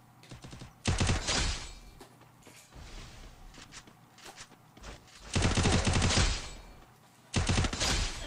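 Gunfire in a video game: loud bursts of rapid automatic fire come in three clusters separated by quieter gaps with faint movement noise.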